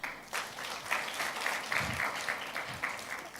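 Applause at a KCB Group financial results presentation for the group chairman, Dr. Joseph Kinywa: moderate, somewhat distant clapping from a seated audience, a few bursts of rhythmic claps, fairly quiet overall.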